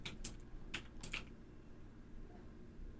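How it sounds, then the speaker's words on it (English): Light keyboard typing, a few quick clicking bursts in the first second or so, then fading into a quiet background hum. "I can hear somebody typing. Clickety clack clack."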